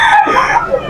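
A stag gamefowl rooster crows once, loud and close, in a short hoarse call.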